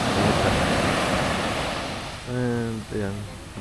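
Sea waves wash onto a beach at Dinajawan in Aurora, a broad rushing surge that swells and fades, with wind across the microphone and a person briefly speaking near the end.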